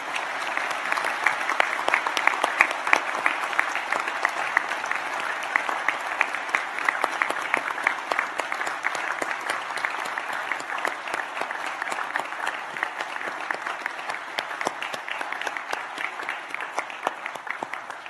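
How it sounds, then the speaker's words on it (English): A graduation ceremony audience at the University of Newcastle in Australia applauds its graduates, steady dense clapping that holds at an even level for the whole stretch without letting up. "join me in applauding the wonderful achievements of these our graduates"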